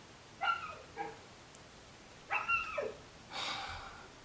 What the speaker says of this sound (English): my neighbor let their dogs out and they bark and dig underneath the fence